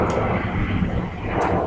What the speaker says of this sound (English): Yep, and another airplane coming through.